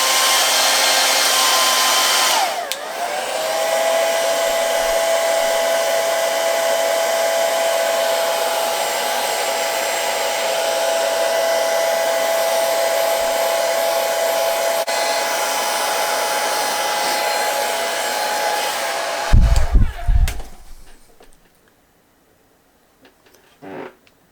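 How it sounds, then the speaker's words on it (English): A heat gun blows hot air onto the plastic packaging of a quarter-scale Harley Quinn statue, giving a loud, steady roar for about nineteen seconds before it cuts off, followed by a few handling knocks and near silence. "Let's heat it up a little more."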